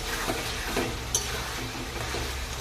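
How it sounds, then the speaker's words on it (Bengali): A chicken curry being stirred in a pan after its water has cooked down, with steady close sizzling and frying hiss under soft scraping strokes and one brief clink of the utensil. "এরপরে আমি খুব ভালো করে নাড়াচাড়া করে নিচ্ছি"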